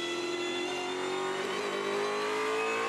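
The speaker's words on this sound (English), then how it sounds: "Go on board now with Mark Winterbottom, who was very fast in the first session" Onboard a Supercars race car during practice at Adelaide, the engine drones loud and continuous at high revs, pitch rising gradually, with no talk over it.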